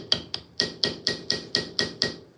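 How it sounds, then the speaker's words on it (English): Hammer peening a brass pin while working around its edge, a run of nine light, crisp metallic taps at a steady, fairly quick rhythm, close and clear with nothing else heard. "I'm just working the hammer in a rotating pattern to work all the way around the edge of the pin"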